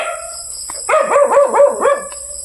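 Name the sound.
dog barking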